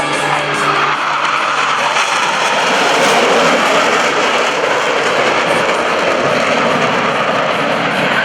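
Roaring jet engines of US Navy Blue Angels aircraft as the pilots peel off in individual brake turns at the 2015 Rhode Island ANG Open House airshow, a loud continuous rumble that swells slightly midway, with no talk.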